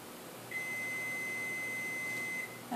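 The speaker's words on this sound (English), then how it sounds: "That's my timer." A single steady electronic timer beep, a pure high tone held for about two seconds, clear and close over quiet room noise.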